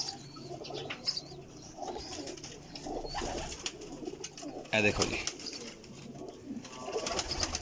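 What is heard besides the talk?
pigeons cooing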